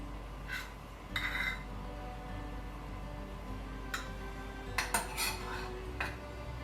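A utensil mixes honey and almond butter in a bowl, giving a quiet steady scraping with a few sharp clinks against the bowl scattered throughout.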